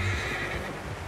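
A horse in Red Dead Redemption 2 whinnies once, a short, rough, shaky neigh over a low rumble of background noise.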